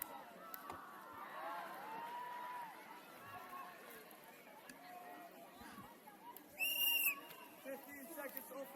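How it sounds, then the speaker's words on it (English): A sharp, short referee whistle blast at a women's under-17 football match cuts through distant crowd noise and commentary voices, heard once near the end. "I don't know if you could hear that whistle"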